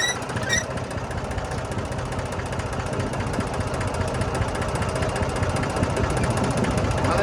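A tractor engine runs steadily and close by on a cumin field, a loud, rough, rapid chugging throb with a rattling vibration that holds constant throughout.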